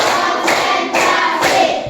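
A classroom of children claps a counted rhythmic pattern together, bursts of group clapping at regular half-second intervals, close and loud, no talking.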